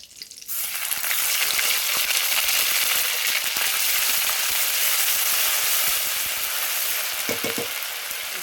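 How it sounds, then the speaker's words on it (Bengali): Dry chilli, five-spice seeds, bay leaf and ginger paste fry in hot oil in a kadai, a loud, steady, dense sizzle that holds throughout and stays close, with no talking over it. "দেখো কড়াতে আবারও তেল দিয়েছি, দিয়ে দেবো কিছু ফোড়ন।"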